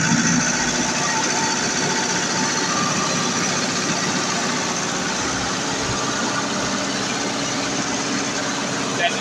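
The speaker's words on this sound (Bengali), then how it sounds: "ইঞ্জিনের সাউন্ডটা শুনতে পাচ্ছেন আপনারা।" A 2018 Tata 1109 truck with an all-steel 19-foot body idles with a steady, broadband engine rumble that holds near and even throughout, with a slight rise as it picks up a little.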